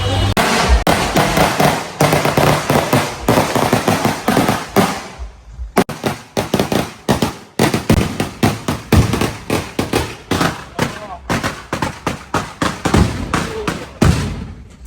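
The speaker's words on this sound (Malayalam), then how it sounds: "ഇവിടെ നമ്മൾ ഇവിടെ പടക്ക് പൊട്ടിച്ച് അഭിഷേകം ചെയ്യാണ്" Firecrackers burst at a Kerala wedding in rapid strings of loud, sharp cracks close by, with short breaks between volleys before the popping resumes.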